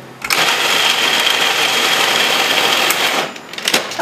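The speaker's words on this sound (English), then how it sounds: "I love the food processor." A food processor whirs loudly and steadily for about three seconds while blending flax and seeds for crackers, then cuts off, leaving a few clatters as the machine settles.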